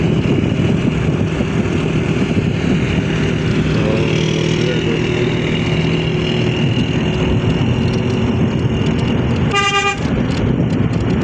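Road traffic flows past in Gujrat near a bus stand: a loud, dense, continuous engine drone with a single sharp horn toot near the end.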